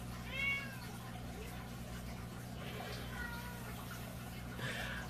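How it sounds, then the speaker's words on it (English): A female cat in heat meows in a room, two or three drawn-out, fairly faint calls spread over a steady low hum, with a voice briefly present in the background. "My cat is not doing so good. She is currently in heat, so she is very talkative."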